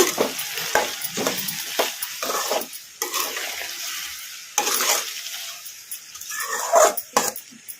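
A spatula stirs a ridge gourd and drumstick stir-fry seasoned with salt in a hot pan, with repeated scraping strokes over a soft sizzle and a few brief knocks, close and moderately loud.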